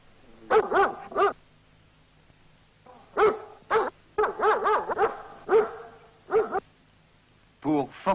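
A guard dog barks in repeated bursts of loud, close barks and growling yips during attack training, with short pauses between volleys.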